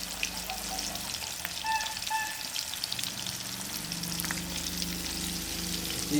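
Prawns coated in rava sizzle in hot oil in a pan, a loud continuous crackling fry with scattered pops and some stirring sounds, and no voices.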